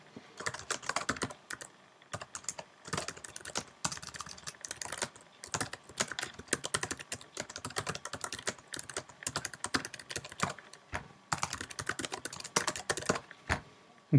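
An email being typed on a computer keyboard: rapid, close keystroke clatter in irregular bursts separated by short pauses, with no talking.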